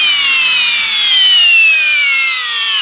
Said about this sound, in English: The Rigid Octane hammer drill.